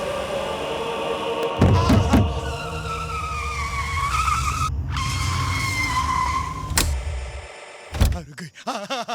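A car skids with a long, wavering tire squeal over a rumbling engine, punctuated by a couple of heavy thumps and a final jolt near the end.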